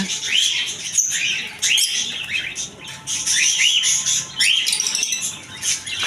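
Birds in a home aviary, albino cockatiels among them, give repeated shrill chirps and whistles in quick bursts with short gaps, fairly close and loud, with no talking.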